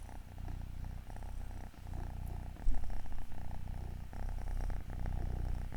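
Ginger cat purring close up, a deep rhythmic rumbling purr in regular breathing cycles, each pulse separated by brief pauses, fairly quiet and alone.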